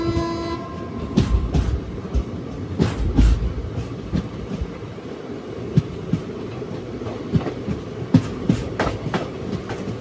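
A passenger train runs between Adoni and Guntakal Junction on the Kakinada to Mysore route, its steady rumble carrying sharp clicks and clanks of wheels over rail joints at irregular intervals.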